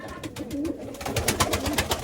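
A pigeon, apparently a breeding bird inside a coop, coos in soft repeated low calls under a steady background hum, with no talk.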